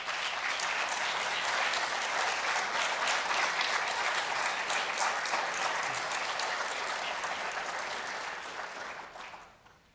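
A gala audience at an awards event applauds board members at length, a dense, sustained wave of clapping that holds steady and then tapers off near the end.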